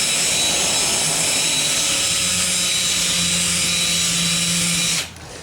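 A power drill with a spade bit whines steadily at close range into cheap PVC plastic, a loud continuous grinding buzz that cuts off abruptly near the end.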